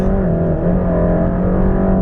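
A 2021 Mercedes-AMG GT Black Series supercar accelerates hard, its engine a loud, sustained, rising roar heard from close by with no talk over it.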